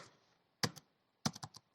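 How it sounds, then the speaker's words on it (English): Computer keyboard typing while entering pandas code in a Jupyter notebook: a couple of crisp isolated keystrokes followed by a quick cluster of four close clicks, near and clear with no talking. "by typing the pd read csv"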